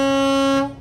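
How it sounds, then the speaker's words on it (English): A loud, steady air horn blast from a 2023 Renegade Explorer 38EMB motorhome holds one rich tone for over half a second, then cuts off, leaving faint background noise. "What else? Air horn"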